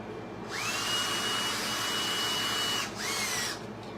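A small power drill with a 1/16 inch bit bores out a screw hole in a model Peterbilt 389 truck, a close, high whine running steadily for about two seconds, stopping briefly, then spinning up again.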